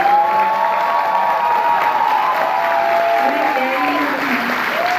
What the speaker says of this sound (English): Give them one round of applause